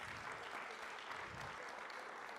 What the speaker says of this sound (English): Can we give one more round of applause to our panelists?